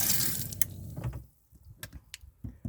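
Brief splash of water from a self-heating faucet in a van, then quiet with small drips, clicks and handling noises close by.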